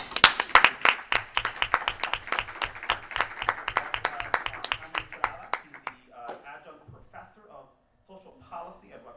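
Applause from an audience at a Puerto Rican diaspora civic engagement summit, a burst of crisp hand claps that thins out after about five seconds, followed by scattered voices.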